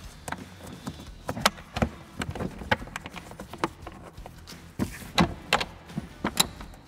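Two 8mm bolts are tightened into a Ford F-150 fan shroud, giving sharp, irregular clicks and ratchet-like taps close up, with short pauses between bursts.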